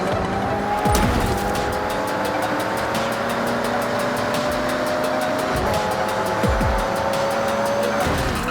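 Race cars in Forza Horizon 6 roar loudly and steadily with high-revving engines, shifting pitch through gear changes, with brief tire squeals as they race side by side.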